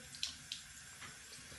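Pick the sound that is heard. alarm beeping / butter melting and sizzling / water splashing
water splashing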